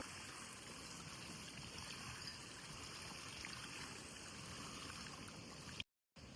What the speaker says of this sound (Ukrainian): Наливаю водичку в ямку.